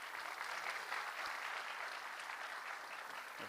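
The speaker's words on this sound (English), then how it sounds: "I think we can welcome him with a clap." An audience at a manual therapy lecture on SI joint dysfunction gives a steady, dense round of applause to welcome a guest, an even wash of clapping throughout with no talk over it.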